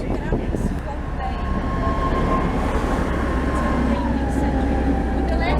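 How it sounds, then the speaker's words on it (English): A tram rumbles past in Prague with a low steady roar and faint metallic squeal, while voices talk over the noise. "There's another tram."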